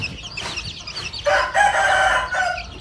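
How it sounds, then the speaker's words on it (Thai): Fighting roosters bred at a home garden farm, clucking and then a loud, close crow rising and holding for about a second before trailing off, with softer clucks around it. "ไก่ ไก่ชน ก็ เพาะไว้ที่บ้าน"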